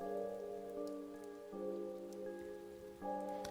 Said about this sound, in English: The only sound of the alley was the sound of the rain.